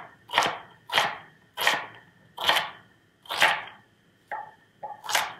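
A knife chops through an onion half on a cutting board, about eight close, crisp strokes in a steady rhythm, with the last few coming quicker.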